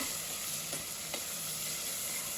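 Onion and chopped tomato sauté in a pan for a vegetable saagu, giving a soft, steady sizzle with a couple of faint stirring taps, quiet and close.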